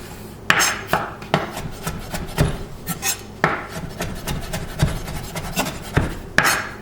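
A kitchen knife roughly chops fresh dill on a cutting board for potato salad, giving a run of sharp, uneven knocks and scraping rasps. The strikes come close and loud, with no talking.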